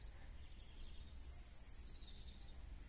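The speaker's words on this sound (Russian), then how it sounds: "Ой, ну как же приятно слушать птичек." Birds sing in the evening outdoors, faint thin chirps and a couple of brief high whistled phrases drifting from a distance over quiet ambient background.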